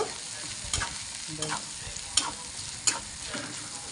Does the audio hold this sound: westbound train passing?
no